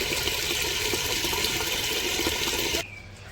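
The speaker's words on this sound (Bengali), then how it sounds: "এদিকে মা আবার মুসুরির ডাল ধুয়ে নিতেছে" Red lentils being washed in water, a dense steady rush of running and sloshing water close by that cuts off abruptly near the end, leaving a faint quiet background.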